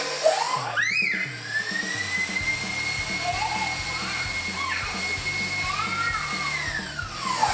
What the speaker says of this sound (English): We're going to mix this real hard, real quick.